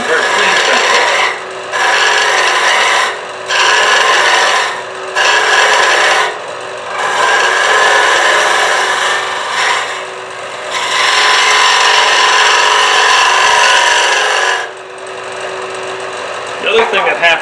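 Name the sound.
woodturning tool cutting end grain of a small hollow vessel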